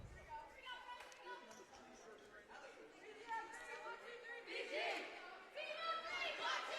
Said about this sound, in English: Great crowd tonight, lively crowd. Students on hand, cheering the girls on.